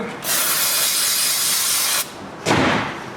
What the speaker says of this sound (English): We can clean that brake fluid off using a little bit of carb spray.